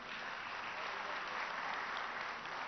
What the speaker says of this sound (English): they need a big round of applause for this.